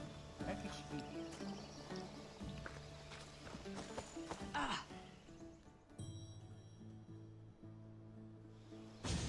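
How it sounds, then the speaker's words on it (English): A horse gallops in the video game Assassin's Creed Odyssey during a horse race, its rapid clip-clop hoofbeats loud and steady throughout, with occasional whinnies and some voices in the background. "Now we'll race horses, but not like they do in the athletic games."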